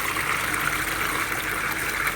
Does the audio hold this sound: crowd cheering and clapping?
no